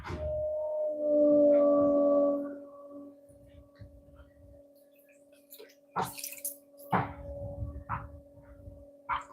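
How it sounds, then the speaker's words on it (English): Water from a thrown clay pot being sponged out on the wheel drips and splashes in scattered drops and short trickles, faint to moderate and close, with a steady tonal hum underneath. "Clean up the inside, take the excess water out of it."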